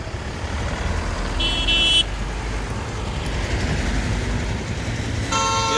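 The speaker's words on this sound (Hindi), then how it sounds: "आप देख रहे हो गाड़ियों के काफिले से गाड़ियां निकल रही हैं" A convoy of vehicles pulls away in a steady road rumble of passing engines and traffic noise, with a couple of short horn-like tones cutting through and no speech.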